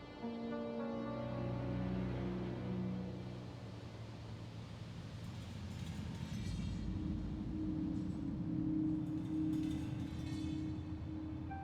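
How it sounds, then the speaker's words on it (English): Trains arriving in the Factorio video game, a sustained low rumbling drone with tonal hum that shifts pitch midway, steady and moderately faint with no talk over it. "We have one train coming."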